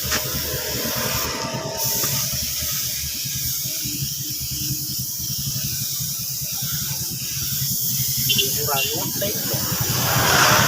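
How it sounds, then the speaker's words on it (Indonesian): A spray can hisses steadily as paint is sprayed onto a motorcycle part, a continuous airy noise close to the microphone while a person talks. "Nah, ini kita semproti juga agar tidak kusam."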